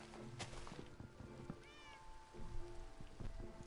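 A cat meows in the Minecraft video game, with a short rising harmonic call heard moderately close over a steady rain-like game ambience and scattered soft clicks.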